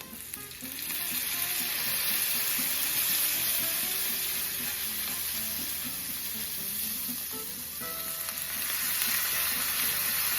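Water hits a hot pan to deglaze browned bits left from caramelized onions, producing a loud, steady sizzle and hiss with stirring scrapes that last the whole stretch.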